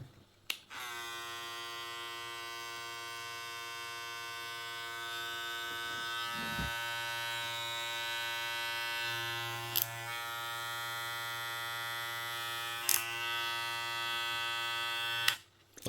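A Kemei KM 1826 hair clipper, rated at 7000 RPM, runs with a steady close buzzing hum for about fifteen seconds, with a few faint clicks and knocks over it before it switches off.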